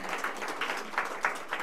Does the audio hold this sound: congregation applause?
yes